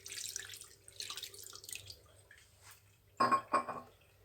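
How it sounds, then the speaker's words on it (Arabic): Water poured into a lemon lemonade mixture, soft splashing and trickling near, ending in two brief louder pours. "نزيدو شويه الماء."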